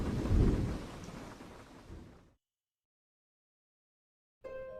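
Thunderstorm with a loud, rolling burst of thunder and heavy rain that cuts off into total silence, followed by a faint tonal hum near the end.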